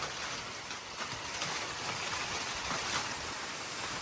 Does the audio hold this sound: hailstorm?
yes